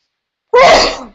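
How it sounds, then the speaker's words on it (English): A single loud, close sneeze bursts out after a half-second of silence, sharp at the onset and then tailing off, with no other sound around it. "I think I'm going to sneeze, guys."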